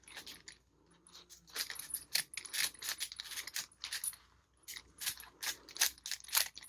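Plastic combination lock dials on an SPGOOD combination lock being shuffled, giving dense bursts of small clicking and rattling ticks at close range, alone without talk.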